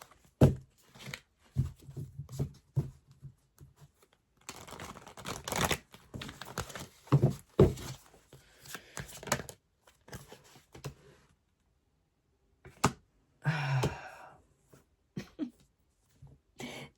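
Tarot cards are shuffled by hand in uneven bursts of riffling, flicking and papery crinkling, close and fairly quiet, with pauses and scattered soft knocks between them.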